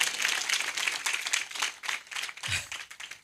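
Loud, continuous clapping from a congregation at a live worship meeting of a Christian gospel assembly, a dense steady wash of hands lasting the whole moment without pause.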